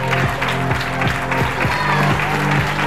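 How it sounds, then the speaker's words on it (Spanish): An audience at the Guijuelo sports awards ceremony applauds a club's first team, giving a dense, steady wash of clapping that stays loud for the whole few seconds. "Un fuerte aplauso."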